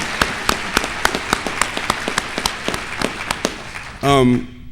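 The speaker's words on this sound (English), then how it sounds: "I think we should give ourselves a round of applause" Scattered hand claps from a conference audience, a sparse irregular patter of individual claps close by that thins out before a short loud burst of voice at the end.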